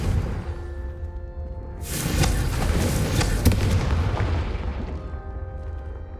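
Confringo spell blasts going off in the video game Hogwarts Legacy, a loud burst of fiery explosions and booms rumbling together for several seconds before fading, with no talking.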